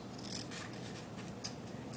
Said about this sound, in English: Take some good sharp scissors.